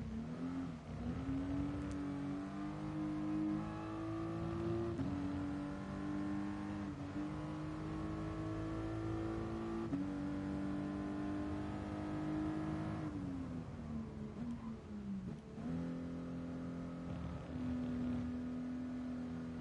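A race car engine in a Gran Turismo video game race drones steadily and loud, its pitch rising through each gear and then dropping at every shift, with no voices over it.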